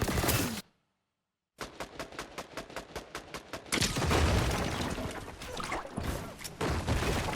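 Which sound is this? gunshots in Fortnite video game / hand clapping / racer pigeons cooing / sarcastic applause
gunshots in Fortnite video game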